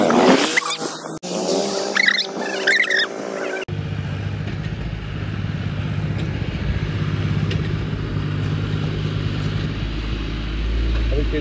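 A tractor drives through a farm field spread with manure, its low, steady engine drone running continuously for most of the stretch after a brief opening of voices and rustling.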